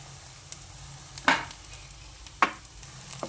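Mashed potato being stirred into sago khichdi in a pan, a few soft scraping strokes of a spoon against a low background sizzle.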